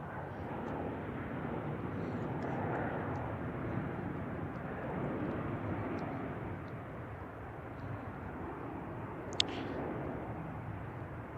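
A Boeing 777 jet airliner at San Francisco Airport produces a sustained wide rushing jet roar that swells and fades gently, with a few faint clicks over the top.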